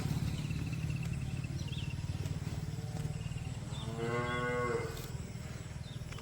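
Cattle at a dairy farm give one drawn-out, close moo partway through, set over a steady low hum of farm machinery or fans.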